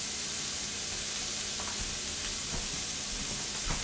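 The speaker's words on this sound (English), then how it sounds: "fry these burgers on up." Bacon sour cream burgers frying in a pan, a steady close sizzle with a few faint clicks and scrapes, alone and without voices.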